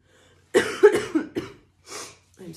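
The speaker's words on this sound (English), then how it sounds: "I'm so sorry about the coughing." A fit of coughing up close: a cluster of four or five harsh coughs in quick succession, then a pause and a couple more softer coughs.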